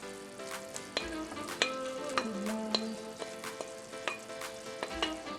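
Tofu hits a pan of seasoned braising sauce and sizzles crisply and steadily close by. Repeated clinks and taps from stirring punctuate the frying, and no one speaks.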